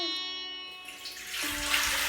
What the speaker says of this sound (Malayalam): പാത്രത്തിലേക്ക് 4 കപ്പ് വെള്ളം ഒഴിച്ചു കൊടുക്കാം.